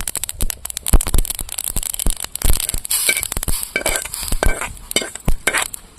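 Lentils dry-roasting in a kadai for a mint chutney, a spatula scraping and stirring in quick, irregular strokes with light crackling, loud and close with no voices.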